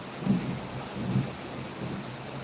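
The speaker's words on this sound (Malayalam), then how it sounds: "മഴയാണ്" Rain falling steadily with low rumbles of thunder rolling in three soft swells, heard from indoors at a moderate distance with no one talking.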